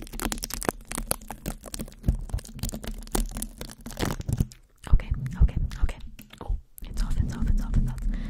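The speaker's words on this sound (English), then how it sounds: "Might be a little loud. Peeling off." Tape being peeled slowly off a microphone at very close range, crackly tearing and sticky rustles in uneven bursts, with brief pauses and soft handling sounds.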